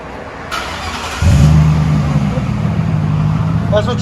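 Mercury Grand Marquis 4.6L V8 with DynoMax Race Bullets exhaust heard from inside the car, idling then revving up to a steady deep drone, with a faint click or voice near the end.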